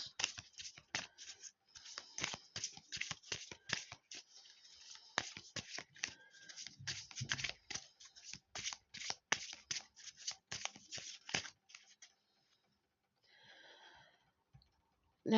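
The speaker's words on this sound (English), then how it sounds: "I'm giving these a good shuffle" A deck of cards riffled and shuffled repeatedly, crisp rapid fluttering bursts for about twelve seconds, then quieter handling.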